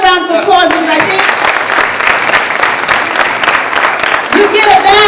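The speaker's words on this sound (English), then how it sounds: "give that a round of applause" A youth empowerment forum audience gives a round of applause. The clapping is loud and dense and runs steadily throughout, with a speaker's voice over it at the start and end.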